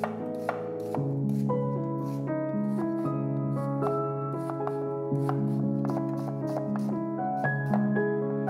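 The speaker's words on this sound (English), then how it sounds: "1 red onion, finely chopped." A red onion being finely chopped with a knife on a board: quick, even taps repeating steadily throughout, heard beneath continuous background music.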